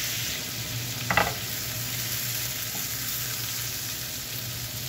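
Tomato and onion sautéing in a hot pan for garlic chicken, a steady close sizzle and fry throughout, broken by a brief clatter of stirring near the start.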